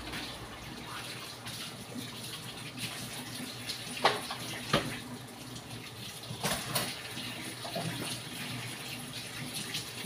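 Tap water runs steadily while dishes are washed, with occasional louder splashes and clinks breaking through the constant flow.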